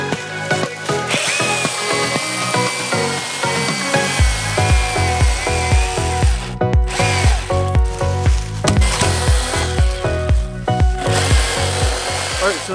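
A Milwaukee cordless chainsaw cuts through wood with a loud, steady buzzing whine, the chain's rhythmic chatter pulsing as it bites, close and continuous throughout.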